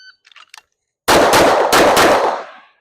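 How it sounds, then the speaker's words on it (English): Rapid string of loud, close gunshots fired on a USPSA practical shooting stage, several cracks in quick succession after a few faint clicks, trailing off in reverberation. "after you have fired your last shot and the range officer thinks you have fired your last shot"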